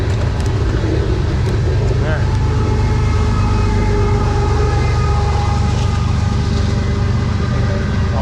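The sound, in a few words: long train passing by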